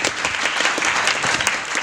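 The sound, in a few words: audience applause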